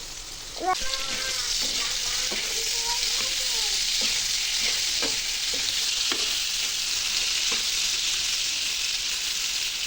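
Shrimp frying and sizzling steadily in a home kitchen pan, a continuous loud hiss with occasional stirring scrapes throughout.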